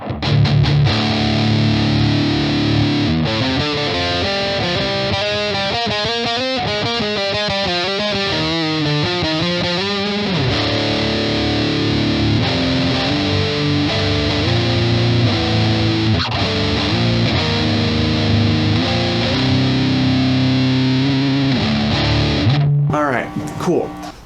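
An electric guitar plays through a distortion pedal in a pedal test, with loud sustained notes and shifting chords ringing continuously, the tone thick and buzzing before the notes cut off at the end.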